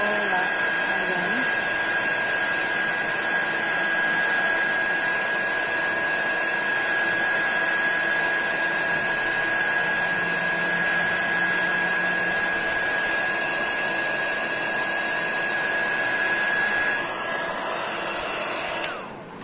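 Hot air blower heating glue marks on wood furniture, running as a loud, steady whooshing drone with a constant whine for the whole stretch before switching off at the end.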